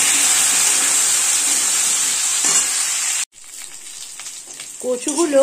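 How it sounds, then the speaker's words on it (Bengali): Taro pieces (gati kochu) fry in hot oil with a steady loud close sizzle that cuts off abruptly partway, then quieter crackling and stirring return, with a voice speaking briefly near the end. "শুদ্ধ কচুগুলোকে আমি এবার এই তেলের মধ্যে একটু লাল লাল করে ভেজে নেব।"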